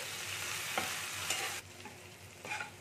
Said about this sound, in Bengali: পেঁয়াজ আদা রসুন সব একসাথে একটু ভেজে নিচ্ছি হালকা করে